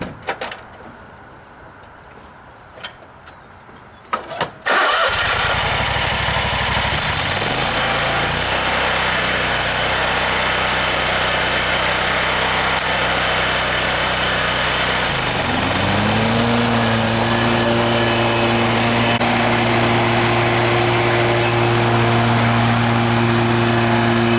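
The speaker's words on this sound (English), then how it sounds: "I'm trying out a new mower today." A 60 inch stand-on lawn mower with a 31 horsepower engine starts after some quiet handling noises, then runs loud and steady close by, its pitch rising as the engine throttles up.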